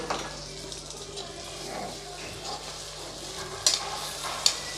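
Egg pepper masala sizzling softly in a pan while being stirred, a steady low frying hiss with faint scraping and two sharp clinks of the spoon near the end, and no voices.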